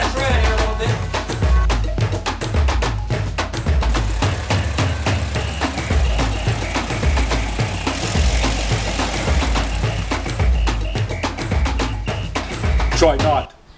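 A Volkswagen engine runs loudly up close with a rough, pulsing idle and repeated revs throughout, then cuts out at the end.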